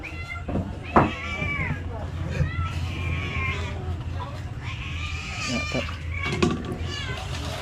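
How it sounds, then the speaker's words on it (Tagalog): A cat meows repeatedly in a setting with goat- or sheep-like bleats, several drawn-out calls at irregular intervals over a steady low hum, with people talking around them. "Wala na pusa o ga. Ungaw-ungaw na po."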